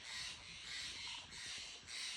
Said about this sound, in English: These are called Stellar Jays.